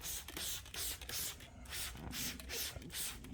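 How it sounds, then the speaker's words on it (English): Bug remover is sprayed onto a hand-built aircraft's surface in a series of short hissing bursts, fairly close and with brief pauses between pumps. "So spray a bug remover on there."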